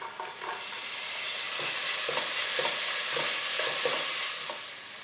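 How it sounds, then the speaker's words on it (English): Garlic frying in hot oil in a pot while being stirred briskly, a loud continuous sizzle with several scraping spoon strokes across the bottom, close up and alone. "We put in the garlic. Give it a good quick stir."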